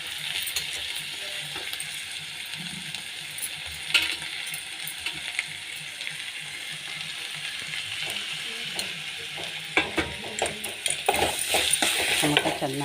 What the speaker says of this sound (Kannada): ಟೊಮೊಟೊ ಚೆನ್ನಾಗಿ ಫ್ರೈ ಆಗಲಿ